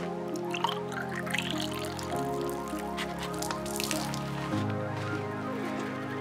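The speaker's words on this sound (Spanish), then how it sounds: "aquí le vamos a caer el agua" Water is poured onto the clutch pump of a 1991 Toyota Tercel, a steady trickling and splashing with faint drips, heard close over a constant low hum throughout.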